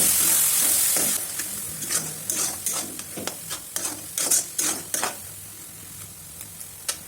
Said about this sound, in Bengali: পেঁয়াজের কাঁচা গন্ধ তাড়াতাড়ি আর একটু সময় ভাজে নিই